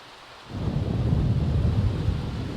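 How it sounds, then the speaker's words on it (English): Steady heavy rain hiss in The Sims 4 video game, with a low rumbling thunder swelling in after a quiet start, loud and continuous throughout. "Of course it would start raining right before having to walk through the woods to get home."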